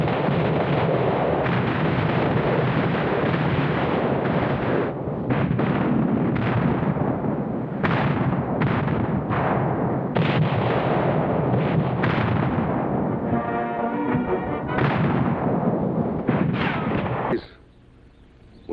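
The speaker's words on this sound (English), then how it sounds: "the order was given to commence firing" Artillery fires in the Battle of Manila in World War II, a dense, loud barrage of booming blasts and overlapping rumbling reports that rolls on for about seventeen seconds before cutting off.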